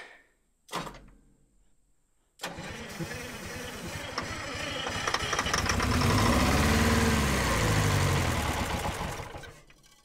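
A forgotten 1970s American-made Insley excavator, untouched for over 25 years, starts without ether through a clogged muffler. After a couple of sharp clunks its engine catches and settles into a loud, throbbing idle that swells and then eases slightly.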